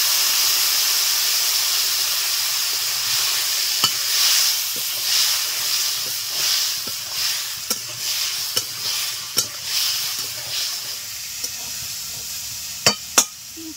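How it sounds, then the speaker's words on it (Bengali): Spice masala with salt, turmeric and a little water sizzles in a pan for ritha fish curry, a steady hiss broken by irregular spatula scrapes and clinks, close and moderately loud. "তিন চার মিনিট নেড়ে চেড়ে নিয়েছি"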